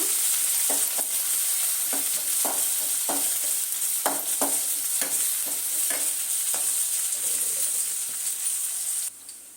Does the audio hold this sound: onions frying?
yes